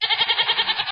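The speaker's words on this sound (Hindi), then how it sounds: "अभी बात की और बकरा भी आ गया" A goat gives one loud, close bleat lasting about a second, wavering rapidly in a quavering pulse.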